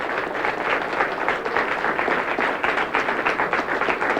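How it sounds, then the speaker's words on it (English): An audience claps steadily for the winning team at a high school quiz bowl championship, a continuous even round of applause heard alone. "Give him a round of applause, ladies and gentlemen."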